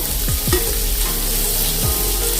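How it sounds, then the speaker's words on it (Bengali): Navratan pulao ingredients frying in a pan, a steady close sizzle with a few scraping stir strokes of a utensil against the pan; no voices. "ভালো করে আমি ভেজে নেব।"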